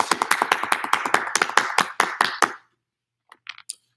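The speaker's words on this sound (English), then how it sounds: "Give yourselves a round of applause." A burst of applause from a crowd of middle school band students at an awards event, dense claps for about two and a half seconds before stopping abruptly, followed by a few scattered faint taps.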